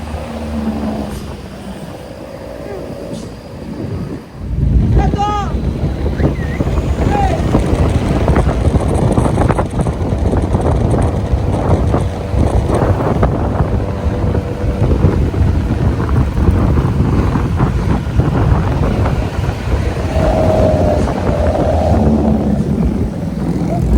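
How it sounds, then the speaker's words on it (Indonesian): Strong wind buffets the microphone on a mountain bus ride from Kabanjahe to Medan in Sumatra, a loud, constant roaring gust over engine rumble, with brief talk audible beneath it. "Udah dingin tambah angin lagi, kacau."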